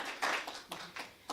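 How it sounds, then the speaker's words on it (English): Audience in a church celebration hall clapping in a few short, faint bursts, scattered rather than sustained, heard from a distance. "Round of applause for Elaine."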